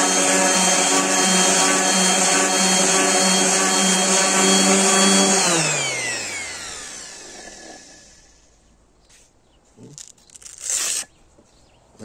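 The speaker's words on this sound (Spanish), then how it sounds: "Vamos a ver alguna prueba de lijado" A power sander runs loud and steady on a small piece of wood with coarse, well-used 60-grit sandpaper, then winds down with a falling whine, followed by a few brief scuffs and rubbing sounds.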